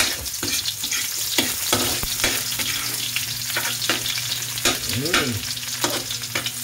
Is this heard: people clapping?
no